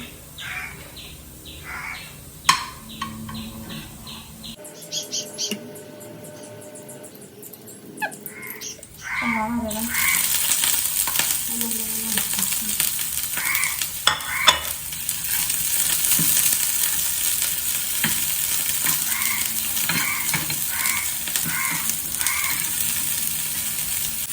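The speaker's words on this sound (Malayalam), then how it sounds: "നെയ്യിൽ എന്താ പറയുക, ഈ ചോറിൻ്റെ മേലിടാൻ വേണ്ടിയിട്ട് അണ്ടിപ്പരിപ്പ് മുന്തിരി സെറ്റെടുക്കാം." Cashews and raisins frying in ghee in a home kitchen: after a quieter start with clinks and stirring, a loud, steady sizzle swells in and carries on alone.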